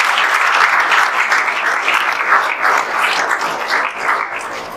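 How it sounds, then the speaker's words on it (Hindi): An audience claps loudly and continuously for a few seconds at a results celebration, a dense, close burst of applause with no speech over it. "अंशु के लिए एक बार जोरदार ताली फिर से बजा दीजिए"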